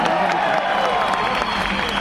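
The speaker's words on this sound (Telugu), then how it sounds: "మీరందరికీ మీరే క్లాప్ పెట్టుకోవాలి." Audience at a Vestige business meeting applauding, dense sustained clapping and crowd noise filling the hall with a voice audible over it.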